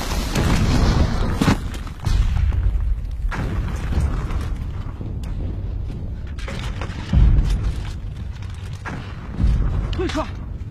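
Artillery shells exploding on a battlefield in an action movie, several heavy booms and thuds at about two, seven and nine and a half seconds over a continuous rumbling bed, with voices heard in between.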